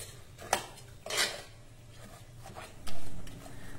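Spoon scraping and clinking in a pot while jujube (bor) chutney is stirred with jaggery, a few short metallic knocks and scrapes spaced apart, fairly quiet and close with no talking.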